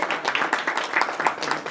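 An audience claps steadily at a church-style lecture gathering, a close, lively patter of hands that keeps up throughout the short stretch without pause.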